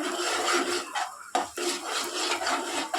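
A spatula scrapes and chops fried eggs into small pieces in a pan, giving close, rhythmic rasping strokes against the metal with a brief clatter midway, heard alone without talk.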